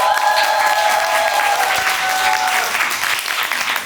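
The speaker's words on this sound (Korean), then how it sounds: "국회의사당 앞은 수많은 시민들의 환호 소리가 가득합니다." A crowd of citizens outside the National Assembly applauds and cheers, a dense, steady wash of clapping with some tonal voices early on, fairly loud and continuous in a staged team-speech skit at a youth camp.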